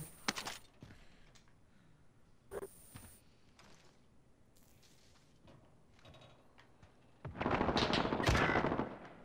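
Bursts of gunfire in the battle royale video game Call of Duty: Warzone, with sharp shots near the start, scattered quieter reports, then a dense, loud barrage of rapid fire toward the end.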